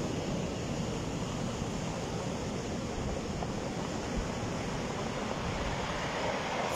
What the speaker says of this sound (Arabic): هنا في هاد القنش هذا راه كيضرب واحد البحر خايب